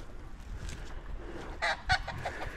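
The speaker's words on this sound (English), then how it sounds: "Y'all like chickens?" Faint, scattered clucks and short squawks from a few fowl at a distance, with a couple of slightly louder calls standing out over low background rumble.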